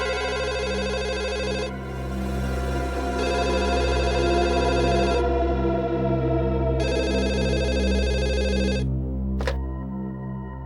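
A telephone rings loudly in a tense crime-drama scene, its electronic bell tone sounding in repeated bursts with short gaps, over a low steady background hum and no talking.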